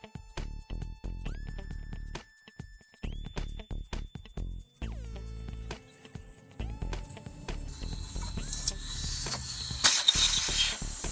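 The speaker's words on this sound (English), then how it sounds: "it's a really quick way of letting the air out. So I'm just going to loosen this." Air hisses out as the valve core of an eBike inner tube is loosened, building into a loud steady hiss near the end after several small ratcheting clicks and mechanical twists, close up with no talking.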